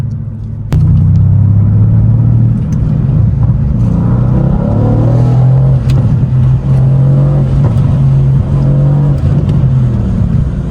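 A Mercedes-AMG biturbo V8 in Sport Plus mode drives through downtown Los Angeles, its deep, loud exhaust rumble steady and close, swelling as it accelerates throughout.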